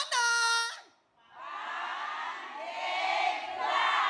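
Studio audience at an Islamic television program breaks into a loud, sustained roar of cheering and shouting that swells and holds for several seconds, following a brief tone at the start.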